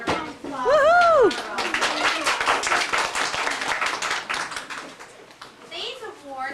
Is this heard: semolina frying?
no